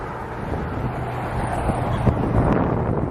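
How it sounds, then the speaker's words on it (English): Steady wind buffets the microphone outdoors, a constant low rushing roar with a few brief louder gusts and thumps. "We're outside. It's a little windy today"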